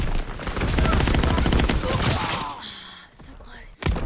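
Dense bursts of gunfire in the World War II shooter Call of Duty: WWII rattle loudly in rapid automatic volleys, then fade into quieter game sounds with a final sharp shot.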